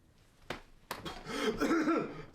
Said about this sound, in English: listen to that nasty cough, folks